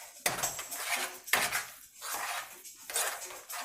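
Amaranth stirred in a cooking pot, with a utensil scraping and clinking against the pot in three or four distinct strokes, close and fairly loud.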